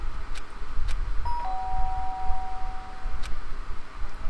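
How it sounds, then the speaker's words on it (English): A doorbell in the video game Danganronpa: Trigger Happy Havoc rings out loud and clear, a sustained electronic tone over a low background hum, with a couple of faint clicks around it. "Sharp sound of the doorbell pierced my sleepy haze and pulled me back into the real world."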